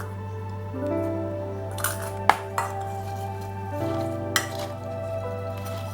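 Okra dry fry stirred in a pan over a steady low hum, with light scrapes and a few sharp spoon clinks against the metal, close and fairly loud, no talking.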